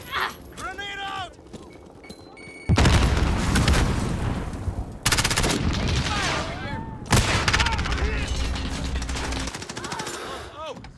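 Grenade blast and rapid gunfire in Call of Duty: Modern Warfare multiplayer, with loud bursts of automatic fire and booms breaking in repeatedly over several seconds, close and dense, while game voices talk over the action.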